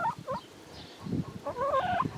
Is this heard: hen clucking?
yes